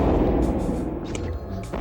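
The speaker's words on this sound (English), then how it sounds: "Use vortex bombs." Vortex bombs exploding in Krazy Ivan, a heavy low rumbling blast that rolls on for about a second before fading, followed by lighter game effects.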